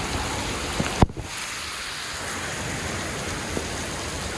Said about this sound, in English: It's raining heavy.